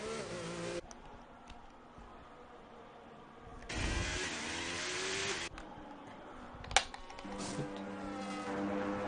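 F1 car in F1 25 at the Austria circuit, a whining engine buzz that swells loudly as the car passes close, then fades back to a distant drone, with no voices.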